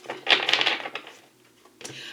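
Tarot cards shuffled by hand in a short, close burst of papery riffling and rustling, followed by a quieter pause and a brief second shuffle, with no speech.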